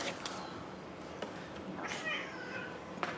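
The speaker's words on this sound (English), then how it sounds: "my cats are fighting" Two house cats fight at a distance, giving faint meows and yowls over a soft background hiss with a few scuffling clicks.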